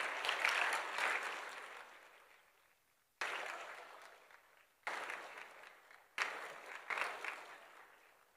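An audience at a Tamil Nadu government award ceremony welcomes the Chief Minister with sustained applause, in several loud swelling waves that each fade before fresh bursts of clapping rise again.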